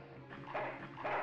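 A dog in a video game gives a couple of short, close barks and yips in quick succession.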